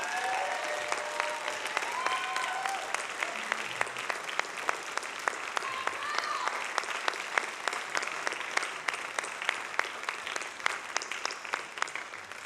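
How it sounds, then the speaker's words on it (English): An audience applauds a Chamber String Orchestra after its performance at a senior high band camp concert, a steady, even wash of clapping from many hands that holds across the whole stretch, heard from within the hall. "Let's give them a rousing ovation,"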